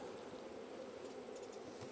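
Honey bees buzz around an open hive while its frames are rearranged for winter: a steady, moderately close drone that continues without a break.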